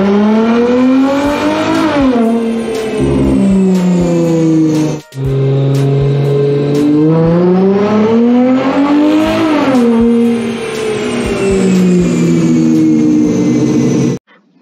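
Loud, close engine pulls from a car on a dyno fitted with an Unorthodox Racing lightweight crank pulley. The revs climb and fall repeatedly, with one sharp brief cut midway and an abrupt stop at the end.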